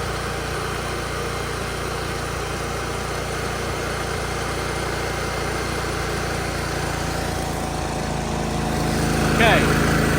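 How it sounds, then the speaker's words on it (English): A pressure washer engine runs at a constant loud drone throughout, with a slight swell in intensity near the end, and a voice is present over it. "then I rev the engine"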